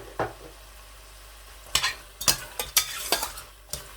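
Chickpea curry paste with a few small chillies is stirred in a pan for kala chana rice, with close, intermittent scraping strokes over a low, steady sizzle.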